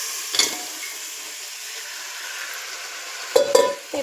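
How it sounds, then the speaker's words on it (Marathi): Steamed goat head meat is sautéed in homemade red chili masala, with a soft continuous sizzle and a couple of brief scraping stirs of the pan near the start and end. "ते पण चांगलं परतून घ्यायचं आहे, जेणेकरून ते खाली लागलं नाही पाहिजे."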